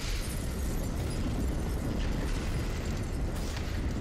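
A rocket launcher explosion in GTA: a loud, sustained blast with rumbling debris fills the whole moment, dense and close with no talk.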